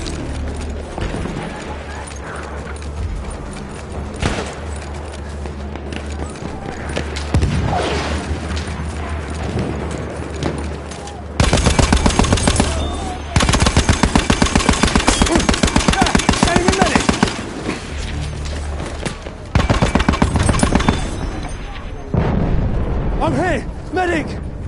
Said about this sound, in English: That's an enemy shotgun.